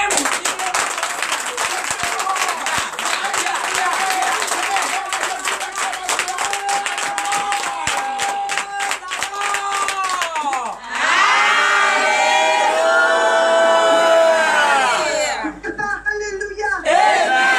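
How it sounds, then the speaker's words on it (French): A church congregation at a Benin morning prayer service cheers and applauds, a loud sustained crowd roar with clapping that swells after about eleven seconds and continues to the end. "Je veux entendre des acclamations"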